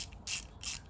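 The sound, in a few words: tightening bolts during Subaru Legacy Outback engine assembly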